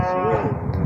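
Cattle on a farm give a long, loud moo close by, a single sustained bellow with wavering pitch lasting about a second and heard on its own.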